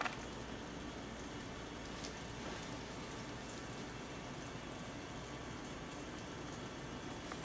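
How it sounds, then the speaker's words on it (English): Batter-dipped bread for French toast sizzles on a hot griddle, a steady, even hiss of frying that stays constant throughout, with no voices. "That's really sizzling."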